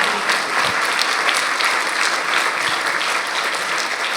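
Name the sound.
congregation applauding for Jesus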